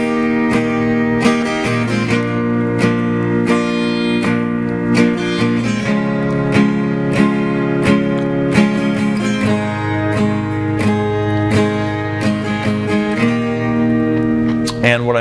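Guitar strummed in a steady pattern: steady, full chords, mostly down strums with occasional down-up pairs, played continuously and up close with no talking.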